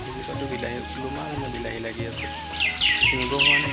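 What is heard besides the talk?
myna birds calling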